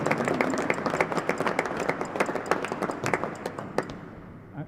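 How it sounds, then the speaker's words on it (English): A real tennis British Open audience claps for the tournament organisers, sharp individual claps blending into moderate applause that tapers off near the end. "So big round of applause for them"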